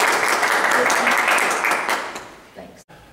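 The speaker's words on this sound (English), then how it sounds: "Round of applause." A room of attendees at a Lexington County Republican Party meeting applauds the new county secretary, with dense clapping that fades over about two seconds before a brief voice comes in.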